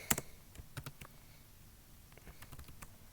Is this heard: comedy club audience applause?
no